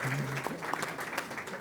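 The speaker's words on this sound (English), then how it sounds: "You got to clap him on here" An audience applauds steadily as a pitch presenter takes the stage at a wellness startup competition, a dense wash of clapping that runs throughout with a voice briefly audible underneath.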